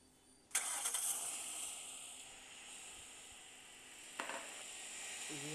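A car engine in the Roblox game cranks and catches with a sudden burst, then settles into a steady hum, with a second brief rev a few seconds later.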